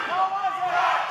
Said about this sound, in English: Crowd split here, half of them chanting that was 3, that was 2.